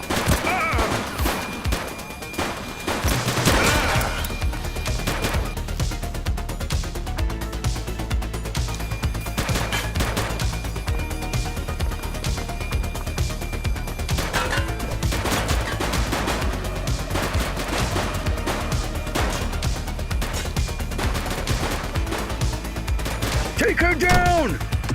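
Video-game gunfire in The Precinct, with a dense, sustained fusillade of rapid shots and crashes running loud throughout, while voices talk over the shooting.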